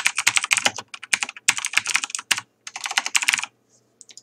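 Fast, close typing on a computer keyboard while entering a document title in Microsoft Word 2013, several quick bursts of crisp key clicks separated by short pauses, no voices.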